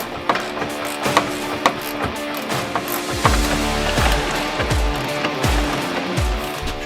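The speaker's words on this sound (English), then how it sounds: "I've got some lag bolts I'm just going to put in it" A ratchet drives lag bolts into pre-drilled holes to mount a whole-house water filter bracket, with repeated clicking ratchet strokes and heavy thumps and clunks in an irregular rhythm, up close.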